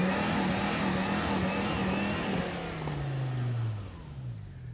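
A small truck's engine hums and surges, revving up and dropping back, as it strains to pull trees down on slick ground, steady and fairly close before easing off near the end.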